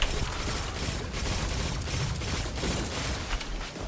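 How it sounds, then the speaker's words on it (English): A pulse rifle reloads in the Destiny 2 video game with a series of mechanical clicks and ratcheting clatters, fairly quiet and continuous over a dense background. "it does reload a bit quicker when the magazine is empty"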